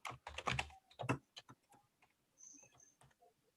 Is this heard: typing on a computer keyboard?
yes